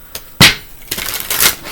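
Tarot cards being shuffled by hand: a short flick, then a sharp riffle burst, followed by a longer rustling slide of cards, close and crisp with no talking.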